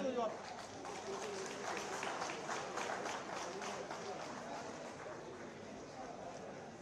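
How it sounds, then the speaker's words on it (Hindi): Applause from an audience at a community felicitation event held by a regional association, a dense, steady wash of clapping that stays loud and sustained throughout with no voices standing out. "कृपया जोरदार तालियां बजाएं।"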